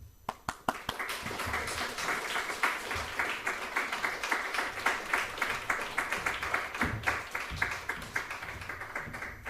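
Church congregation applauding to welcome the pastor during Sunday service, starting with a few sharp individual claps that build into steady, rhythmic group clapping close by.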